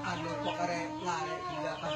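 A rooster clucks steadily and fairly close, in a busy, continuous bird-filled soundscape with faint voices underneath.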